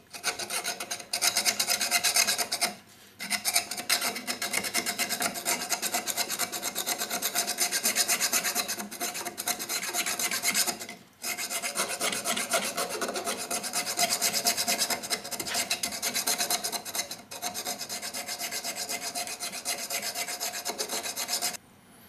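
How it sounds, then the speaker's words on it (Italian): A flat metal file rasps back and forth over the blade seat of a spokeshave, long steady scraping strokes broken by a few brief pauses, loud and close with no talk. "Con l'aiuto di una lima piatta rettifichiamo con cura la seduta della lama."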